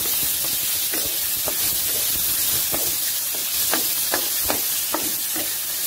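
Small tomato pieces fry with browned onions for a vegetable kurma, giving a steady close hiss and sizzle throughout, with soft scraping stirs and clicks recurring at irregular intervals.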